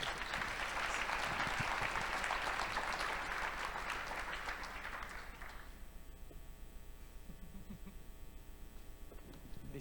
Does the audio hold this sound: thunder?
no